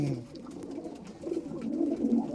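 A racing pigeon cooing close by, a low soft repeated coo with a faint murmur of background ambience.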